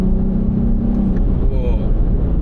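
Nissan 350Z with a Veilside kit droning steadily on a race track near Mt. Fuji, a loud low engine note with a rising rev in the cabin, close and continuous throughout.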